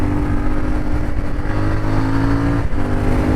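A CFMOTO 450MT adventure motorcycle rides on a dirt trail, its engine droning loud and close with a steady, smooth hum under throttle and a brief dip near the end.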